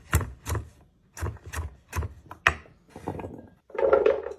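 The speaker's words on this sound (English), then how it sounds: "We're just going to chop it up into pieces small enough to fit in the blender." Strips of fresh coconut meat chopped into small pieces on a board, a series of about nine sharp, close knocks in an uneven rhythm, followed by a brief rustling scrape.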